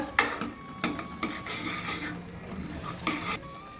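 A utensil scrapes and stirs thickening milk around a pan for paalkova in repeated rasping strokes, close by, with faint bubbling underneath and no talking.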